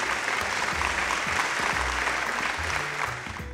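A theatre audience at the Green Cinema Award ceremony breaks into loud, sustained applause welcoming the Best Digital Creator award winner, a dense wash of clapping that eases slightly near the end.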